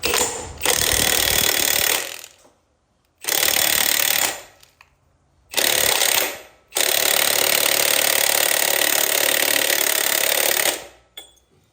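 A power tool on the belt drive of a Big Dog chopper runs loud and close in four bursts separated by short silences, the last burst the longest.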